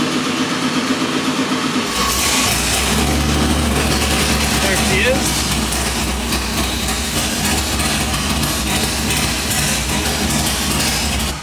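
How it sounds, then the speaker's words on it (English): A Smeding 632 cubic-inch big block Chevy settles into a loud, steady idle on an engine dyno after firing up, its low rumble continuous and close throughout. "I'm gonna let the engine idle for a little bit to come up the temperature"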